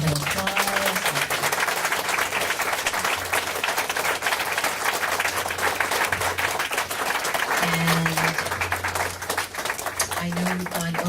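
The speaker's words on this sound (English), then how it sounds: "And everyone can give them a big hand of applause if you'd like." Audience applause for the presenters at a meditation radio anniversary event, a steady broadband clapping texture running the whole time with low voice-like tones underneath.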